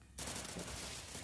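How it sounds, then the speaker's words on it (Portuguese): A rapid, dense burst of automatic gunfire in a squad battle video game starts abruptly and continues loudly, with no talking. "Dá um tiro, Max."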